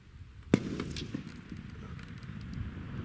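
A single sharp rifle gunshot outdoors while testing a Feyachi RFS-21 6-24x50mm rifle scope, one loud crack followed by a fading tail over steady background noise.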